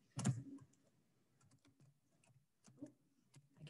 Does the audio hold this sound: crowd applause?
no